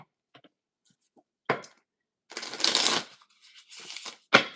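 Tarot cards are shuffled by hand in short bursts: a few faint riffles, then a longer brisk shuffle and a final sharp snap, close and alone in a quiet room.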